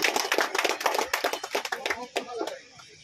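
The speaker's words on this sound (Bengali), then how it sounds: "হাততালি।" Applause from a crowd at a fishing competition prize giving, a burst of many claps that is dense at first and thins out toward the end, with voices mixed in.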